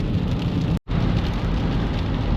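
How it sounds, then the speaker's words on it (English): Steady, heavy rain falls outside in a residential neighborhood on a gloomy day, a dense continuous hiss with one brief dropout partway through and no talking. "It is quite rainy and gloomy today."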